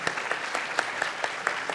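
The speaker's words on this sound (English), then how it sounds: "Would you join me in giving our panelists a round of applause" Audience applause for panelists at an agricultural leadership summit roundtable, a short spell of steady clapping from a modest crowd, moderately loud and even throughout.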